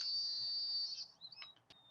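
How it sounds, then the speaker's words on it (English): A handheld treatment device gives a long, high, steady electronic beep while its button is held, then cuts off, followed by a few short chirps and clicks in a quiet room. "you'll notice the device beeps"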